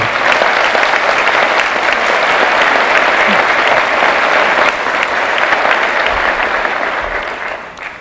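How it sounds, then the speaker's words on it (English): A commencement crowd applauds, loud and continuous clapping filling the space evenly for several seconds, then easing off slightly at the end. "So please give them another round of applause"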